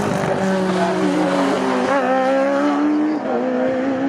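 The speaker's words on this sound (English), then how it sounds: "those two cars come into the Brunton Nelson section of the track" Sports prototype race cars at Snetterton circuit, with a loud, high engine whine holding and shifting pitch as the cars pass through a section of the track, the note dropping briefly near the end.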